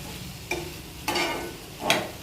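Ivy gourd and tomato pieces cooking in a pan for a pickle, stirred in three separate scraping strokes over a low, steady background sizzle.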